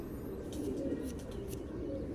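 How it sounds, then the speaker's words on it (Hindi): A racing pigeon coos softly in a rooftop loft, low rolling throaty calls that repeat steadily at close range over faint background hiss, with no speech. "2024 में जी उड़ा है जी ये कबूतर।"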